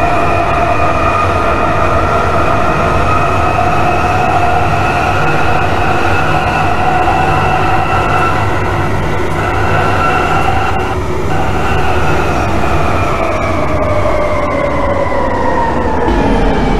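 A London Underground Jubilee Line train in the video game ROBLOX runs loudly and steadily, with a rumbling roar and rising and falling tonal whine from the motors, no voices.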